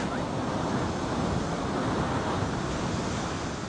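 Ocean surf rolling steadily onto the shore, a continuous loud wash of breaking waves with wind noise buffeting the microphone throughout.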